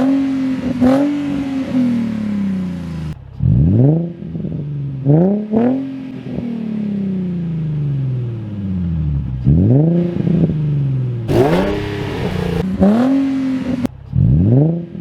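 A Nissan 350Z exhaust, heard stock, with a straight pipe and with an ISR Y-pipe and single GT system, revs repeatedly: loud, close blips that rise and fall between idle stretches, with a steady drone between revs and no talk.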